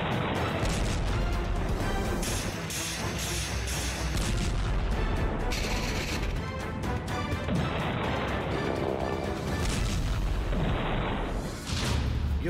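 Russian missile strikes in Ukraine come through as a dense, loud run of blasts, crashes and booms, one after another with little pause, over constant rumbling noise.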